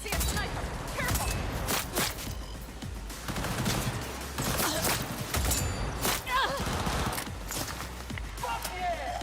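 Bursts of rapid gunfire and explosive shots from the video game Cyberpunk 2077 crackle repeatedly in a busy firefight, with clattering and movement sounds in between.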